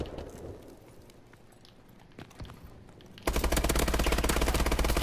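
Gunfire in the Call of Duty Advanced Warfare video game starts as a few scattered distant shots, then becomes a loud, continuous rapid burst of automatic fire during the last part.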